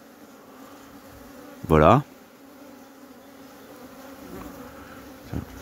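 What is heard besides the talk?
bee buzzing at a beehive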